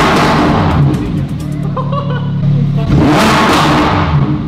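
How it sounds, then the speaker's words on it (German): A very loud car engine revs hard twice: a roaring burst, a brief dip, then another strong surge close by. A voice is faintly present underneath. "Dieses Auto ist kriminell laut."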